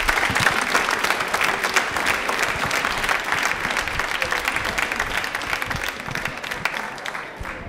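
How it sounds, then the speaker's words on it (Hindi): Sustained, loud applause from a studio audience for a participant in a televised quiz marking Birsa Munda's birth anniversary and Janjatiya Gaurav Divas, steady dense clapping throughout with no talk over it. "सुमित ताली एक बार हो जाए जोरदार।"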